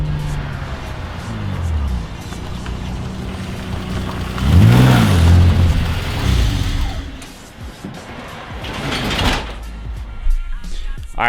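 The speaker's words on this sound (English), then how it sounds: "I have a vibration going on where it feels like just right after the transmission, there's a source of vibration that shakes the entire cabin" A BMW E30 with a vibration just behind the transmission, driving with a steady low engine drone and a loud swell of revving in the middle, then easing off with some rattling toward the end.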